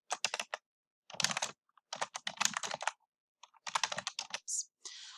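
Computer keyboard typing in several quick bursts of clustered keystrokes, close and fairly quiet, with short silent pauses between the runs and no talking.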